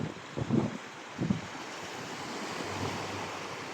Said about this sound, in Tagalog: nandito ako sa dagat